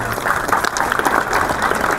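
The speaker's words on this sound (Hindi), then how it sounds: "आप अपने लिए एक बार जोरदार तालियां भी" Audience at a Shrimad Bhagavatam religious discourse applauds with steady, dense clapping throughout, moderately loud and continuous.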